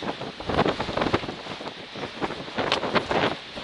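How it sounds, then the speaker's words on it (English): Gusty wind buffets the microphone on the exposed South Kinsman summit in the New Hampshire mountains, a loud, uneven roar with repeated surges and no voices. "And boy, is it windy."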